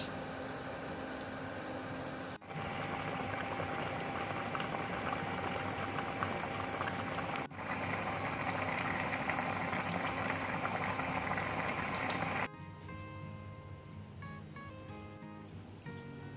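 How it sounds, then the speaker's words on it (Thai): A pot of Thai vegan stewed vegetables, tom chap chai, boils hard with a loud, steady bubbling hiss that keeps going, briefly breaks twice, then drops softer near the end. No one speaks. "ต้มให้สุกก็จะได้ต้มจับฉ่ายครับ"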